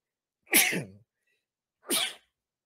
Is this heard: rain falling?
no